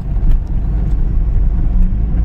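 A car driving through Kolkata city traffic on a Sunday: a steady, close low engine and road rumble fills the cabin, with a few faint higher passing noises and no talk.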